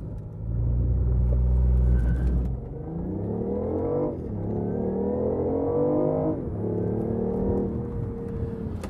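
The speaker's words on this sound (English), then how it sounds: "Let's try launch control again" A BMW i8 launches hard under launch control with dynamic traction control on: a loud, close engine roar that climbs in pitch, drops briefly at each gear change and keeps pulling, with no talk over it.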